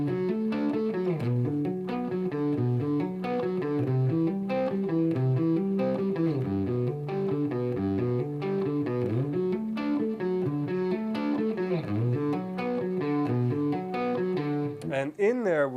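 Electric guitar arpeggio exercise played slowly and cleanly, picked with hammer-ons in a hi-tech rock style; steady rolling note patterns run the whole time with no talk.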